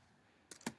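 A few quick keystrokes tap on a computer keyboard while a plan name is typed, faint and close, three soft clicks after a near-silent moment.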